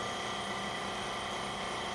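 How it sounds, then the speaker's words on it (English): A vacuum pump runs for a wood stabilization chamber, giving a steady, dense mechanical hum and hiss that stays even and close throughout, with no talk. "turn the pump off"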